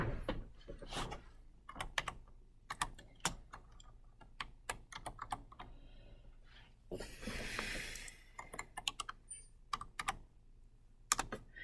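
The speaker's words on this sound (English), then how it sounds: "So I'm going to type that in over here." Typing on a computer keyboard, close and fairly quiet, with irregular runs of quick key clicks, short pauses and a brief rustling noise partway through.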